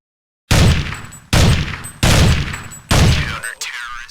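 M4A1 rifle fire in Counter-Strike 1.6, arriving as four loud, close bursts separated by short pauses, each a sharp crack with ringing decay.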